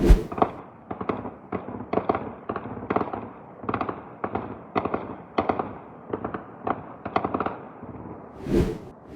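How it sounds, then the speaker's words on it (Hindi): Rapid bursts of automatic gunfire from the Israeli army in Lebanon at night crack out in repeated volleys. They are separated by short pauses and sound moderately distant, with a louder blast near the end. "रात को अंधेरे में भी इजराइल की फौज ओपन फायर कर रहा है लेबनान में"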